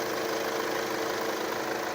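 A BMW X1 engine idling smoothly after a tensioner repair with the air conditioning running, a steady mid-low hum with a faint even vibration and no rattle, heard alone and fairly quiet.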